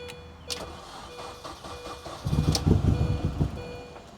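A car engine cranking and catching after a boost from a Lokithor J1350 PRO pocket jump starter, with a click and a beep first, then a loud, rough, uneven running rumble up close.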